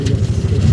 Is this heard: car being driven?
yes